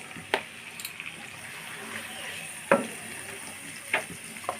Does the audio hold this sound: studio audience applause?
no